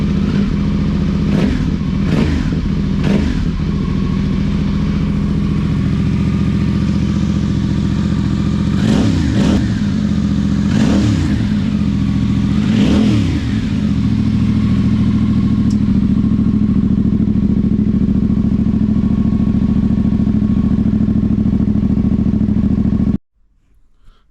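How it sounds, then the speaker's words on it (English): A loud, throaty Yamaha Tenere motorcycle engine with an Akrapovic exhaust, baffles removed, idles close by and revs sharply several times in quick bursts, then settles into a steady rumble before cutting off. "Tenere Akrapovic exhaust baffle removal."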